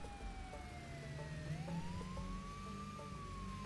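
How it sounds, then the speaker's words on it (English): Police siren in the video game Goat Simulator 3 wails continuously, its pitch sliding down and back up, steady and fairly loud over a low ambient hum with no talking. "That siren's like not coming from the car, and it's very distracting."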